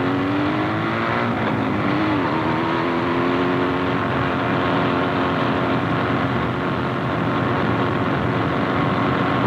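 A beginner motorcyclist pulls out from the kerb beside parked cars on a 1970s street, the engine note steady and fairly close, rising slightly in pitch early on, with constant road noise and no talk.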